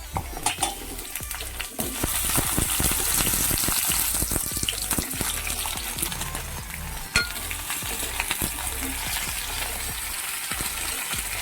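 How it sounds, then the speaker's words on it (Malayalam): Drumsticks frying in hot oil in a pan, giving a steady loud sizzle throughout, with frequent sharp clinks and scrapes of a utensil against the pan. "അപ്പോൾ അതേ പാനിലോട്ട് നമുക്ക് കുറച്ച് ഓയിൽ ഒഴിച്ച് കൊടുക്കാം അതിലോട്ട് നമ്മൾ ഈ മുരിങ്ങക്കായ ഒന്ന് എടുത്ത് ഫ്രൈ ചെയ്തെടുക്കാം"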